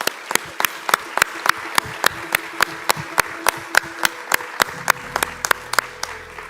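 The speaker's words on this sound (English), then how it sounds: "A big round of applause for all of them." Audience applause for award recipients at an education festival main stage, a fairly sparse, rhythmic clapping with distinct individual claps, steady and close, fading slightly toward the end.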